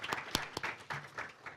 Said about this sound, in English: A round of applause, I think, for his distinct service to our great military